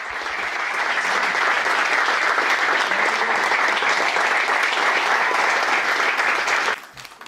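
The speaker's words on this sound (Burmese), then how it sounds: "အားလုံးလက်ခုပ်တန်လေးနဲ့ချီးကျူးပေးပါဦး" Sustained applause from a large audience greets football player Declan Rice, steady and dense for nearly seven seconds before cutting off abruptly.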